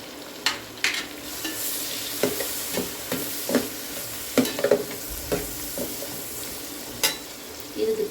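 Slit green chillies frying for a mandi biryani, a constant low sizzle broken by repeated sharp scrapes and clacks of a spoon stirring in the pan.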